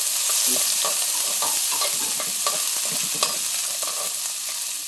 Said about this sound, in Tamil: நல்லா வதக்குறேன்